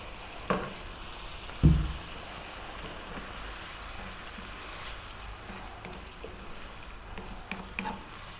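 Paneer cubes drop into a bubbling tomato curry, giving a couple of soft thuds over a continuous low simmering sizzle, close by and without speech.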